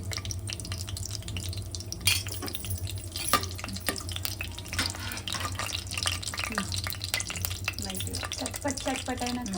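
Garam masala frying in a pan for a spicy Telugu kalakura dish, a steady close sizzle with occasional stirring scrapes and light crackles running throughout.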